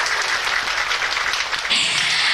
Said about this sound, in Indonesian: terima kasih tepuk tangannya.